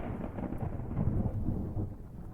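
Rain falls outside with a low, rumbling roll of thunder, a dense, muffled wash that swells slightly midway and carries on without voices.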